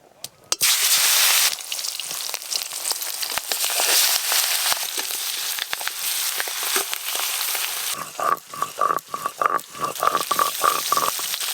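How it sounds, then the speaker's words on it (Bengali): Pieces of fish fry in mustard oil in a pan, a hissing sizzle broken by sharp crackles and pops that grow more frequent toward the end. "সর্ষের তেল দিয়ে বেশ ভালো করে মাছগুলো ভেজে নেব।"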